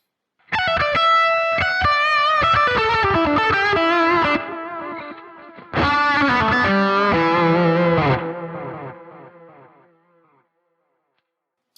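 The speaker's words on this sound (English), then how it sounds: "now we have both delay and reverb set up" An electric guitar played through a BOSS GT-1000CORE patch set with both delay and reverb rings out in two sustained phrases. Each phrase leaves a long echoing tail that fades into silence.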